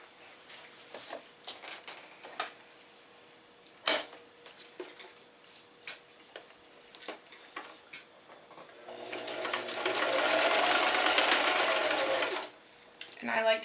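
A sewing machine runs steadily for about three seconds, stitching a fabric face mask, after a stretch of quiet handling noises and brief clicks; it stops abruptly before a final clatter.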